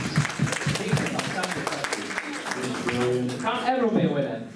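Audience applause at the Cleethorpes Comic Con 2017 cosplay contest: a steady, dense patter of clapping that fills the clip while a host talks over it.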